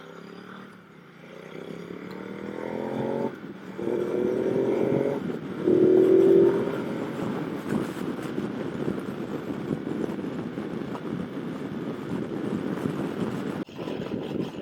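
A 2017 Ducati Multistrada 950 motorcycle ridden in traffic, its engine note rising in several short acceleration sweeps before settling into a steady rumble with wind noise, close and fairly loud.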